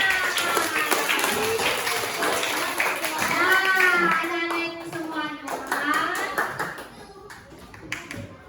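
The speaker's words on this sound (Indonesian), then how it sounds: "tepuk tangan untuk kita semua" Children in a primary classroom clap their hands in short bursts while a teacher speaks over them and young voices chatter, the claps sharp and close amid lively classroom noise.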